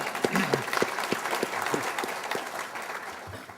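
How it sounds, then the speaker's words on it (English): An audience at a business-community event gives a round of applause, a crowd of hands clapping together with a few sharp, distinct claps standing out near the front before the sound tapers off toward the end. "I think we can give that a round of applause"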